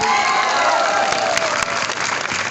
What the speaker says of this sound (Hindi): जोरदार ताली एक बार बजा दीजिए